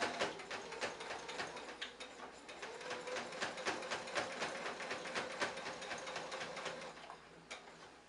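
A sewing machine stitching a short back stitch on a T-shirt pillow, a fast, steady mechanical clatter of rapid needle strokes, fairly quiet, running nearly continuously and easing off near the end.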